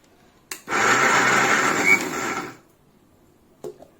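A mixer grinder whirs through a sprouted chickpea papad mixture in one loud, close burst of about two seconds, with brief clicks just before and after.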